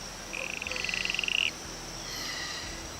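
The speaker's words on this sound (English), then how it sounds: "The harlequin toad, often known as the clown frog, is a marvel of nature." A harlequin toad, also called the clown frog, gives a single rapid pulsed trill lasting about a second, fairly close and clear over a quiet background, then falls silent.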